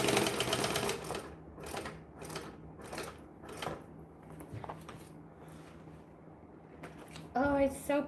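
A home sewing machine stitches slowly in short, evenly spaced bursts while backstitching a bag during a long sewing session, with quiet pauses between runs and a brief burst of speech near the end.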